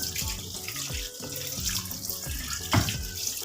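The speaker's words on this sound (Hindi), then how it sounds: "इसमें डालेंगे पानी और मसल के अच्छे से हम इस सारे चिकन को धोएंगे।" Raw chicken pieces are washed by hand under running water in a sink, a steady gush with sloshing, splashing handling and one louder splash near the end, close by with no talking.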